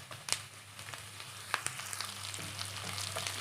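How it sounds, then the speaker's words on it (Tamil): Capsicum sizzles in hot oil with onions in a pan, a soft steady crackle with a few sharper pops near the start, fairly quiet and close, with no voices. "இப்போ வந்துட்டு ஒரு குடமிளகா போட்டுக்கிறேன்."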